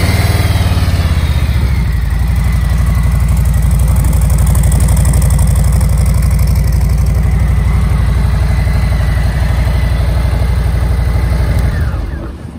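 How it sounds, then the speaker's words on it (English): A 2020 Harley-Davidson Softail Standard with a Milwaukee-Eight 107 V-twin starts up and settles into a steady, loud, close-up idle with a deep pulsing throb, running alone before cutting off at the very end. "Start this bike so you can hear it go."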